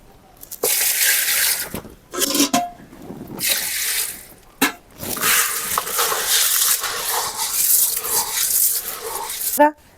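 New sorghum (jowar) grain is washed by hand in plenty of water, with repeated sloshing and swishing bursts broken by short pauses.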